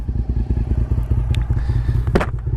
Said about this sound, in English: I'm gonna actually leave the bike running because I'm worried about the battery dying.